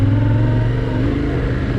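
A Husqvarna 701 or Yamaha Ténéré 700 motorcycle engine running rough with a throttle that keeps cutting out, heard close and loud as an uneven, sputtering drone.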